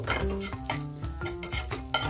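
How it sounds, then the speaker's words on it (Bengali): Raisins frying in ghee in a pan during carrot halwa preparation, a steady close sizzle broken by stirring scrapes, with a tonal hum running underneath. "কিশমিশটাও আমি ঘিয়ের মধ্যে ভালো করে লাল করে ভেজে নেব।"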